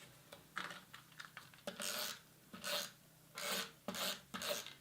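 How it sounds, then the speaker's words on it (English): Tombow mono adhesive tape runner rolled across chevron-patterned paper for papercraft, giving a series of short rasping rubs with small ticks between them, close up and quiet, with no voices. "I'm using my Tombow mono adhesive"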